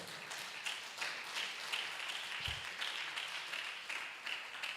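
Church congregation applauding the Lord after a sermon, a fairly faint, steady patter of many hands with soft surges, heard alone.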